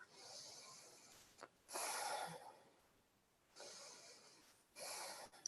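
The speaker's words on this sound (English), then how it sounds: "We're going to do 2 inhales and exhales first." Slow deep breathing during a meditation exercise: two long inhales and exhales, each breath a soft airy rush alternating with quiet pauses, close and faint.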